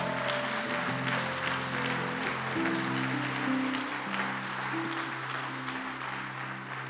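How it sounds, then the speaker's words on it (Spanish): Steady applause from a church congregation during a special broadcast service, continuous clapping over held sustained organ or keyboard chords, loud and even throughout. "Dale un fuerte aplauso al Señor"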